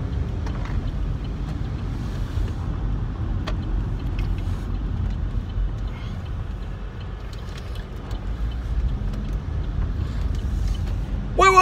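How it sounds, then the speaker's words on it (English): A car driving along, with a steady low engine and road rumble throughout from inside the cabin and a few faint knocks and bumps over the top. "I'm driving all over the place."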